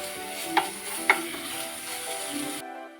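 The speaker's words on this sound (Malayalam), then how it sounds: "എന്നിട്ട് എല്ലാം കൂടെ ഒന്ന് വഴറ്റി ഒന്നുകൂടെ ഒന്ന് എടുക്കണം" Curry leaves, coriander, green chilli and ginger-garlic paste sauté in a pan for a beef cutlet filling, a steady hiss with two sharp utensil clicks, over background music, stopping abruptly near the end.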